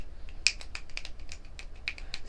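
Crisp finger snaps ring out repeatedly at an irregular pace, sharp and close, over a faint low hum with no voices.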